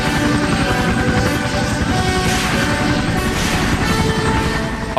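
A military helicopter in a Vietnam War video game roars loudly and steadily, its rotor thumping in a dense, continuous drone throughout.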